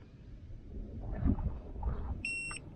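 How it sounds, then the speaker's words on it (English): A short, high electronic beep from a TPMS sensor with harmonic overtones sounds near the end, over low mechanical rumble and faint background noise. "until you hear that beep"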